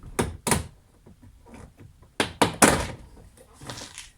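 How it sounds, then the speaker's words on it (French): Plastic trim clips pop loose as an interior panel is pulled off a VW Polo 5 6R, giving a few sharp close snaps and thuds in two clusters, with quieter handling noise between them. "c'est juste des clips en fait qui est à l'intérieur maintenant, qui la tiennent. Et du coup on a juste à faire sauter et à tirer."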